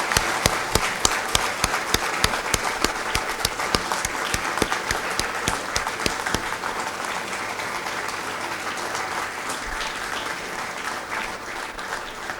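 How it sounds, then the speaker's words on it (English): An inauguration ceremony audience breaks into steady applause, crisp close claps at first that thin into a softer, even patter from the whole room. "Go ahead, clap once again."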